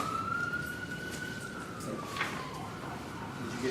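A faint, distant emergency siren wails with a slowly falling tone outside a committee meeting room, heard over low background hum.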